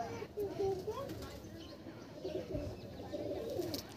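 Pigeons coo softly with low, rolling calls in a loft, heard under someone talking nearby throughout.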